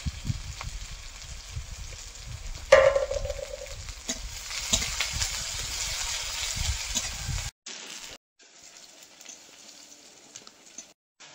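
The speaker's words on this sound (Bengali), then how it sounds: "পেঁয়াজটা ভাজা হয়ে গেছে।" Chopped onions with crushed garlic and five-spice seeds frying in oil in a wok, a soft steady sizzle with a few stirring knocks, close and moderate, falling quieter and patchy in the final seconds.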